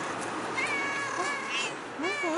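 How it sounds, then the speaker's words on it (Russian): A cat meows several times, thin rising and falling cries over a steady outdoor hiss, moderately close. "Кошка?"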